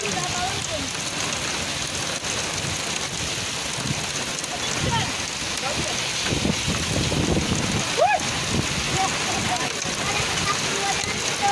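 A heavy hail and rain storm in a city in São Paulo, a dense continuous hiss of pelting drops and splashing water, with a voice talking briefly over it.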